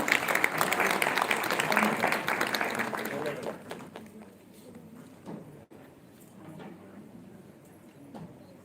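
Audience applause at a Samajratna award ceremony in Dadar, Mumbai: dense clapping for about three seconds, then fading into scattered claps and murmuring voices.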